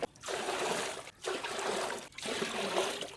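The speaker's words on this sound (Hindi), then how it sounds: "तो आज भी 3-3 जग जो है वो पानी डालेंगे।" Water gushes from jugs into a container for a homemade red-sharbat popsicle mix in a village, three loud, close pours of about a second each, separated by brief pauses.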